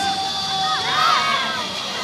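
A capacity crowd of 7,500 at a Japan versus Korea international volleyball match cheers and shouts in a large arena, a loud continuous roar with high-pitched voices rising and falling.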